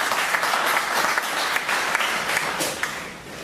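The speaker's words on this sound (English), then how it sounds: "you should give yourselves a round of applause" An audience at an annual general meeting gives steady, full applause, many hands clapping together before it begins to thin toward the end.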